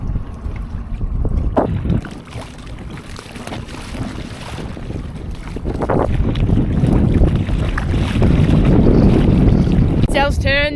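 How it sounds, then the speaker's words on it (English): Strong wind gusting across open sea during wingfoiling, a steady roar of wind buffeting the microphone that swells and grows louder in the second half, with faint water noise underneath. "The wind has just picked up a bit"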